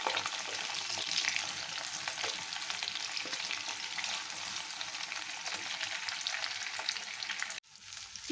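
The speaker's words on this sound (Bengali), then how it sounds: "চিকেনগুলো দেখো লাল লাল করে আমি ভেজে নিয়েছি।" Chicken pieces for chilli chicken sizzle in hot oil with a steady, loud, dense crackle that runs almost unbroken before dipping briefly near the end.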